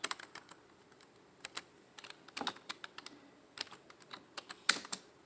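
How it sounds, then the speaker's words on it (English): Quick, uneven bursts of clicking keys sound from a computer keyboard during typing, close and fairly quiet, with short pauses between clusters and no talk. "I'm just typing in something right quick."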